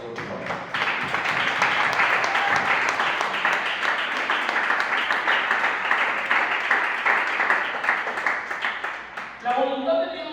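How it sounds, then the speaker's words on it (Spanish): A church congregation applauding the Lord during a Spanish-language sermon, a steady wash of clapping that holds for about nine seconds before tapering off. "Dime un aplauso al Señor"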